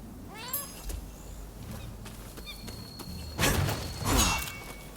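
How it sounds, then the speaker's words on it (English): A cat meows a few times in the Rise of the Ronin video game, with short mid-volume calls over quiet ambient game sounds, followed by a louder rustling burst near the end. "Oh, we got a cat."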